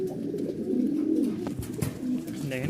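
A pigeon coos close by, a low throaty rolling call repeated over a couple of seconds, with faint voices in the background.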